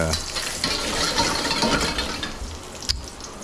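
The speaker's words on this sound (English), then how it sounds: "oil's hot again, ginger's sizzling" Ginger sizzling in hot oil while mu shu pork is cooked, a loud, steady frying hiss with stirring and scraping throughout, no talk over it.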